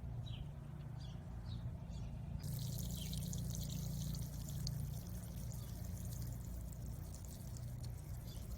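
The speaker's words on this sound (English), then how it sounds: "I'm going to water in one more time" Water pours steadily from a watering can into carrot seed trenches in garden soil, a continuous soft splashing trickle with faint birdsong in the background.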